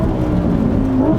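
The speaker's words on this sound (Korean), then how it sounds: "다운시프트 때 듣는 이 고RPM에서의 사운드도 정말 일품인데" A Lamborghini Huracan EVO's V10 engine howls at high RPM on a downshift, a loud close whirring engine tone with a brief rising blip, no talking.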